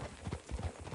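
Horse hooves clip-clopping on a dirt trail in Red Dead Redemption 2, a quick, quiet run of soft thuds at an easy gait, close by and alone.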